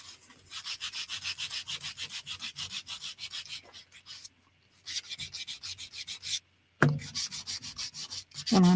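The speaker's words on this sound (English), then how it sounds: "Got a new sander." A new sander rubs across the surface of a playing card in rhythmic, close scratchy strokes, stopping briefly twice before resuming, with no talk.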